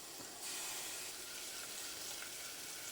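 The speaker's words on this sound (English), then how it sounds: "on medium-low heat, you're going to sear all sides of your ribs" Short ribs rubbed with olive oil sear over medium-low heat, giving a steady, soft broadband sizzle that jumps up after a brief quieter start and then holds evenly at low volume with no voices.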